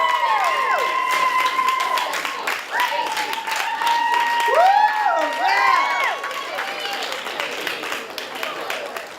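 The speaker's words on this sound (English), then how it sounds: "Can we get an applause for the future generation of people?" An audience applauds and cheers, with sustained clapping and whoops filling the space and voices rising through it, near and fairly loud throughout.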